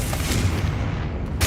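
The fiery Confringo blast spell in the video game Hogwarts Legacy: a loud, dense, booming burst that fills the short clip, with a sharper crack near the end.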